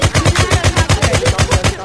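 A tank's machine gun firing in a VR shooter game, a loud, close, evenly paced stream of about fourteen heavy thumping rounds without a break.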